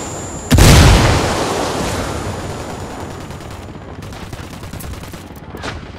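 A frag grenade explodes in the tactical shooter Ghost Recon Wildlands, one loud close blast with a long rumbling tail, followed by scattered distant gunfire crackling in the background.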